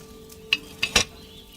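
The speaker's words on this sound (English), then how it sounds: "Hear that bubbling? It's boiling." Wine bubbling in a cauldron set over a flame in the video game Kingdom Come: Deliverance II, heard as three short, soft bubbling pops in quick succession with no talking.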